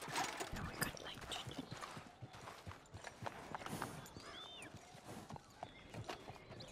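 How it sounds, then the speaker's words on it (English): Horses in Red Dead Redemption 2 clatter with steady hoof clip-clops along with an occasional whinny, set under a busy, fairly faint game soundscape. "Damn it, the horses are ruining everything."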